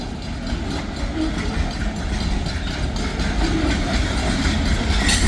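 An Escanaba and Lake Superior freight train rolls past nearby with a steady, loud rumble and rattle of wagons and faint rhythmic clatter, continuous throughout.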